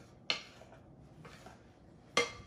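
Buttermilk biscuit ingredients being mixed in a bowl: a few sharp clinks and knocks of a utensil against the bowl, spaced apart, with quiet scraping between them.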